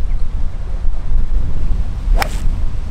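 Strong wind buffets the microphone on a golf course, a steady loud rumbling roar with gusty swells and one sharp whooshing swipe near the end.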